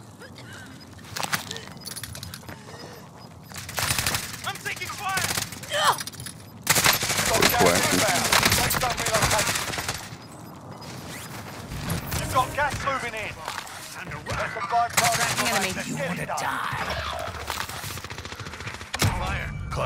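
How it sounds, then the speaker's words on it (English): Loud bursts of rapid gunfire from a video game firefight come in repeated volleys over about twenty seconds, some close and heavy, with intermittent speech mixed in. "Confirming yeah, they're shooting on us already."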